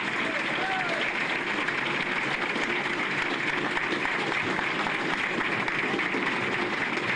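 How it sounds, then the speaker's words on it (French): Audience applause fills a hall after a political speech at a summer youth gathering in Fréjus, a dense, steady wash of clapping lasting throughout without pause. "Vous pouvez les applaudir et vous pouvez vous applaudir."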